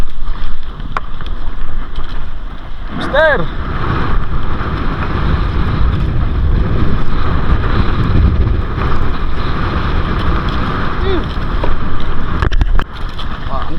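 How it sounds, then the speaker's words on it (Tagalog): Strong northeast monsoon wind roars and buffets steadily against the microphone over rough sea with big waves, with a voice calling out briefly. "Lakas ng hangin."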